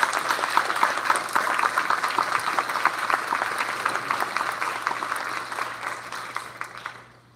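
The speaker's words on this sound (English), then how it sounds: "So let's give these kids a round of applause" An audience claps steadily after children receive certificates at an elementary school awards ceremony. The applause is dense and fairly loud, holds for several seconds, then thins out and fades at the end.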